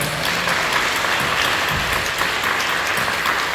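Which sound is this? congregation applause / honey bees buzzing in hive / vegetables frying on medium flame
congregation applause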